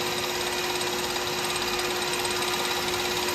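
A wooden pen blank spins on a lathe at over 3,000 RPM while being sanded, a loud continuous whirring drone with a steady tone and no pauses, no one speaking.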